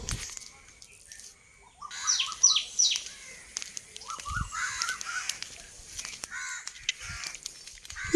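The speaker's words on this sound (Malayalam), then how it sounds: "നമ്മുടെ കിളികളൊക്കെ പിന്നെയും വന്നിട്ടുണ്ട്" Crows caw loudly in a series of harsh calls, with other birds chirping around them outdoors, near and clear, and a voice speaks intermittently.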